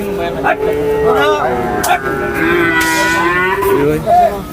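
Cattle at the Jamalpur Chowrasta cattle market in Kaliakair give loud, drawn-out moos close by, several rising and falling calls overlapping against a busy outdoor background where voices can also be heard.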